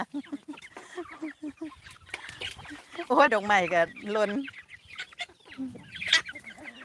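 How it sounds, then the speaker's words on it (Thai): Chickens clucking loudly up close in a farmyard while being fed, bursts of rapid clucks over someone talking. "ไก่นี่เกเรค่ะ"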